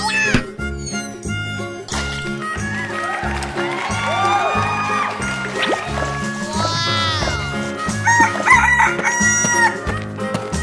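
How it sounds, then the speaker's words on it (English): Loud rooster crowing with drawn-out cock-a-doodle-doo calls and some clucking, set against a busy, repetitive musical backdrop in a children's animal song. "Chicken."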